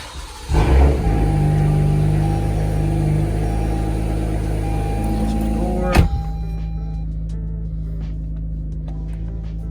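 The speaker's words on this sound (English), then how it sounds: "So let's go and crank the car up." A 2019 Toyota Avalon V6 cranks with a sharp burst, then settles into a steady, close idle hum that runs on, with a brief click and a slight change in tone partway through.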